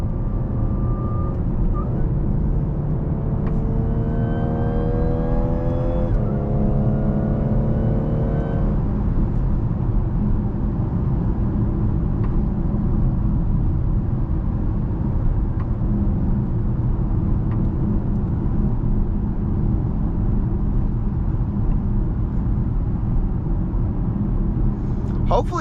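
Inside a supercharged Audi on a morning drive, the engine drones as a steady low rumble with a rising supercharger whine in the first few seconds. Road noise stays continuous throughout.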